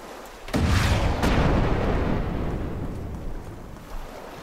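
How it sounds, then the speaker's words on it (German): A cannon shot in the survival game Hide & Hold Out: one sudden loud boom followed by a long rumbling roar that slowly fades, with no talking. "Also der Schuss sah cool aus, hat aber nichts kaputt gemacht."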